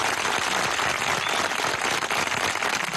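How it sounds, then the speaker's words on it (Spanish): A large crowd applauds the Bolivarian National Guard at a ceremony, a thick, continuous wash of clapping that holds steady and loud throughout, with no voices standing out. "Aplausos para ustedes."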